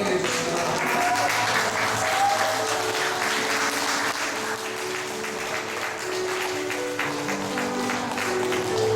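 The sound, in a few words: applause at a graduation ceremony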